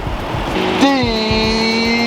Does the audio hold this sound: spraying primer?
no